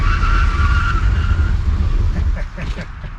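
A car stops hard on Mountain Pass performance front brake pads with regen set low: loud road and tire roar that builds into a squealing skid, then drops off sharply as the car halts.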